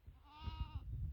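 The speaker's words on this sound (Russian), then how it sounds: "Ну вот такие козлятки." Goat kid bleating once in a short, wavering, quavering cry, close by on a village farm, over low outdoor rumble and background noise.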